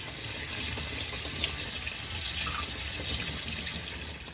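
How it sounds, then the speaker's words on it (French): Cucumbers that have sat in salt are rinsed under a running kitchen tap, a steady close rush of water splashing into the sink without pause. "Les concombres ont dégorgé, je vais les rincer pour retirer l'excédent de sel."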